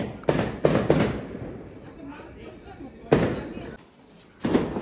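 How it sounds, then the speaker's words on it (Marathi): Firecrackers bursting outdoors during a family Diwali celebration. Loud sharp cracks come in clusters: three quick bangs at the start, then another about three seconds later and one more near the end, with people talking nearby between the bursts. "हे दोघं वाजताय फटाके."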